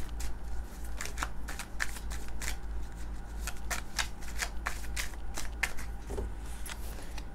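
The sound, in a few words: tarot cards being shuffled and drawn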